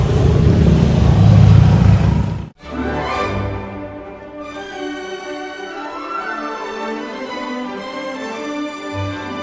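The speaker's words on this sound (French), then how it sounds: "j'ai l'impression qu'il y a le bus qui arrive, c'est notre bus là" A tour bus pulls in, its engine loud and rumbling up close, then cutting out abruptly before a lighter motor hum and revving carry on in the background.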